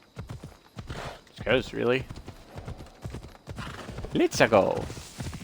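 Hoofbeats of a horse in Assassin's Creed Odyssey, clip-clopping under game music and intermittent talk, with a horse's whinny partway through.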